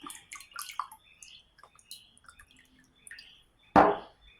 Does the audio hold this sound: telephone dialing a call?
no